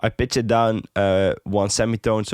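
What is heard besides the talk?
None of the usual background noises is heard.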